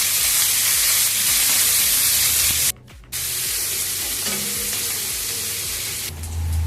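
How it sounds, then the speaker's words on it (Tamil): Onions and curry leaves sauté in a hot pan for a chicken liver dish, producing a loud continuous sizzle broken by a brief drop in level midway, with stirring scrapes. "வெங்காயம் போட்டுக்கலாம் ஃப்ரெண்ட்ஸ். வதக்கிக்கலாம் ஃப்ரெண்ட்ஸ்."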